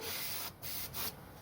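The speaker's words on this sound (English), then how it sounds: "Take it to one side, get some brake cleaner." Brake cleaner sprays from an aerosol can in short hissing bursts, three quick close blasts separated by brief gaps, in a workshop during a timing belt and water pump job on a 1.6 or 1.4 16v engine.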